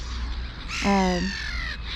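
A single crow in a city park gives one loud, harsh, close caw that stands out against faint background noise.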